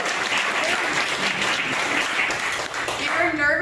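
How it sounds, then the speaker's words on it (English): Audience applause for the students who painted the tourism murals at a public unveiling, a loud, dense wash of clapping that holds steady throughout, with a voice surfacing faintly near the end. "can you give these guys a really big round of applause?"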